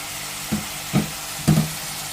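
Hotdogs sizzle in a pan for Filipino-style spaghetti under a steady frying hiss, with three distinct stirring scrapes and clatters at regular intervals and no talking.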